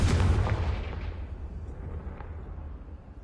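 A Confringo spell explosion in a Hogwarts video game: one loud, deep blast at the start that rolls away into a long, fading rumble, with no other sounds.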